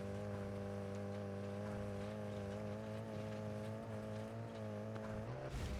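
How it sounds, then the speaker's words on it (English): A car engine in the racing game Fuel drones steadily with a low, even hum throughout, fairly quiet and unbroken, with no one talking. "You can slightly hear the driving."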